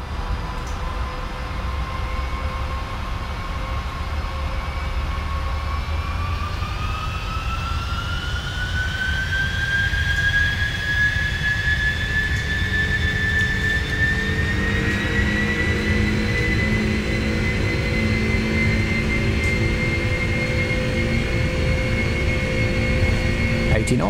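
Boeing 747-400 jet engines spooling up to takeoff thrust in the Prepar3D flight simulator at night, a loud continuous roar with a whining tone that climbs in pitch and then holds steady.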